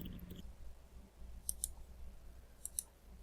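Two pairs of sharp mouse clicks on a Save button while setting up custom member attributes in web software, quiet and close against faint room hiss.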